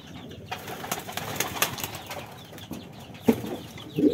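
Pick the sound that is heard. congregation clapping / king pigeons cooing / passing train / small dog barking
king pigeons cooing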